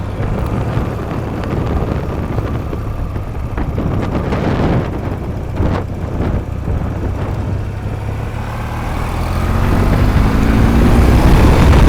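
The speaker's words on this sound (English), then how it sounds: "Bike accelerates very smoothly and cleanly." A motorcycle engine revs up steadily beneath heavy wind buffeting, the roar building and rising in pitch toward the end.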